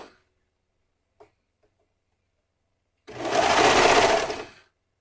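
A serger sewing machine stitches fabric in one short, loud burst of rapid mechanical whirring after near silence and a couple of faint clicks.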